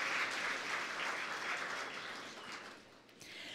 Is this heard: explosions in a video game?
no